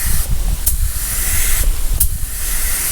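Spray gun laying coats of paint on a car in a paint shop, a steady loud hiss with brief bursts and pauses, no talking.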